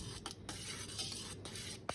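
Gin being stirred into blackberry liqueur, soft close clinks and scrapes of a utensil against a container with a few brief knocks, quiet and without speech.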